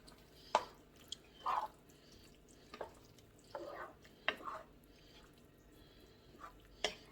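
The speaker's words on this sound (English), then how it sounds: "let me start to stir this up a little bit" Crushed tomatoes being stirred in a pot for spaghetti sauce, heard as soft wet squelches and scrapes spaced irregularly across the stretch, fairly faint and close, with no talking.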